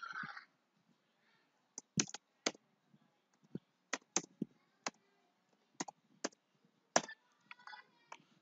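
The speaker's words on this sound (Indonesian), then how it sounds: "Setelah itu ketikkan passwordnya." Quiet, sparse keystrokes on a computer keyboard as a password is typed in to sign in to Google Meet. Separate sharp clicks come in an uneven rhythm against near silence.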